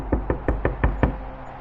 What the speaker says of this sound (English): we heard a sudden knocking sound on the cabin door